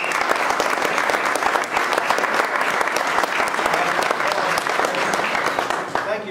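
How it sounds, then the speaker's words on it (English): A crowd gives a round of applause at a triathlon festival event in Guernsey, loud, dense clapping lasting several seconds before easing slightly at the end. "just give them a round of applause"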